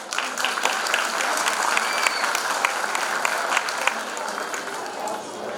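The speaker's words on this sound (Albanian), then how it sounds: "Një duartrokitje padyshim," Sustained audience applause at a memorial concert in Drenas for children fallen for freedom, dense steady clapping from a crowd that holds for several seconds and eases slightly near the end, with a voice faintly underneath.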